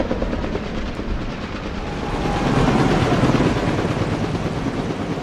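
A helicopter flies over Vegas Motor Speedway, a steady broadband rotor and engine roar that swells slightly louder midway, continuous and fairly close with no talking.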